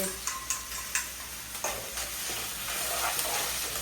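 Ginger, garlic and tomato sautéing in a pan with onion and green chili, a steady sizzle broken by a few sharp clinks of a spatula stirring near the start.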